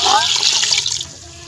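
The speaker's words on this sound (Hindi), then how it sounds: "और 1 किलो हम डालेंगे इसमें पानी।" Water pours into a pressure cooker for mutton karahi, a short, close splashing rush of liquid that fades over about a second.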